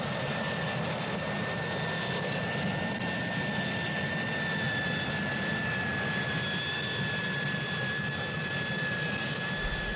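Harrier jump jet engines give a steady, loud whine and roar, with a constant high tone held evenly throughout, no voices over it.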